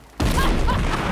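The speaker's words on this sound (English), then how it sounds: "Cannon ready." A cannon firing in the Shadow Gambit video game, a sudden heavy boom that fills the sound and rolls on in a dense, loud rumble after a quiet start.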